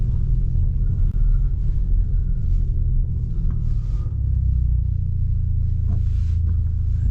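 Turbocharged Ford Mustang EcoBoost on a test drive, a steady deep engine rumble heard from inside the car, loud and continuous with faint higher tones drifting above it.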